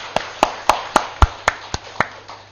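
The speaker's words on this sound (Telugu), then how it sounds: "ఒక్కసారి మరి ఆ ఉజ్జయినికి మనం గట్టిగా ఒకసారి చప్పట్లు కొట్టుకుందాం." Nine sharp, evenly spaced claps ring out in under three seconds, close and crisp, more like a single pair of hands than a full audience, during a spiritual talk; no voices over them.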